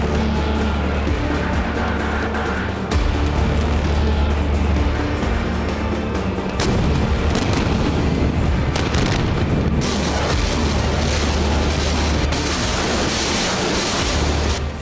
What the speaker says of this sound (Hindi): रेड आर्मी की तोपें गरज रही थी